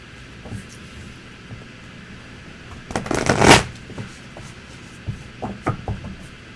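Tarot cards being shuffled make one brief, fairly close riffling burst, set amid faint taps and quiet room sounds.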